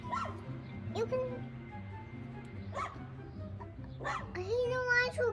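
A small dog yips and whimpers in a sunny outdoor setting, several short, high, close calls spaced through the clip over a low steady hum.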